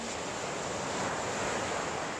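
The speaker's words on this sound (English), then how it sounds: "I wonder how bad the wind or the waves are." Constant wind and ocean surf on a beach, a dense, steady roar with no breaks or distinct wave crashes, loud and close to the microphone.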